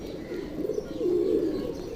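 A pigeon that has dropped down in the heat coos softly and close by, a low rolling call that swells and dips across two seconds with no talking.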